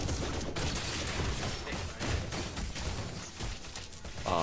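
Rapid video game gunfire from a special crescendo bullet ability, a dense, loud burst of shots with clattering mechanical layers running continuously for a few seconds.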